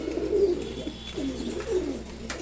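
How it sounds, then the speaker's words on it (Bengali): A pair of pigeons, a red male and an uncommonly coloured female, cooing close by in a few soft rolling low calls over a quiet background. "খুবই সুন্দর এক জোড়া কবুতর, আমার খুবই পছন্দের।"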